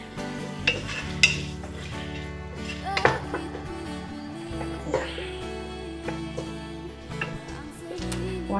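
Garlic and rice cooking in a large pot, with stirring scrapes and clinks of a utensil against the pot, plus occasional louder knocks over a steady low background hum.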